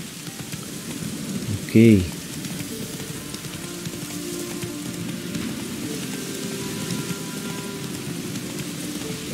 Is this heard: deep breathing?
no